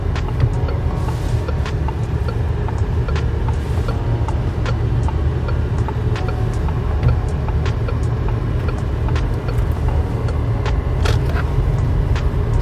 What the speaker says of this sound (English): Now let's check the turning radius of the car,